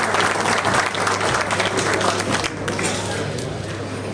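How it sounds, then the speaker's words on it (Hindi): Audience applause at a large pied dove fanciers' group event in Lahore, a steady dense wash of clapping lasting the whole stretch, loud and close with crowd noise mixed in. "एक बार प्लीज ताली"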